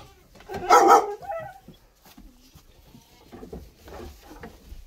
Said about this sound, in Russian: И нельзя на них лаять